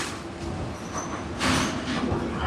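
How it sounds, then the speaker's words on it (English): Interior of a tram bus riding into the centre of Nîmes, France, a steady close rumble of the moving vehicle with rising road and rail noise, no talk. "we are on the tram bus, taking us into the centre of Nimes."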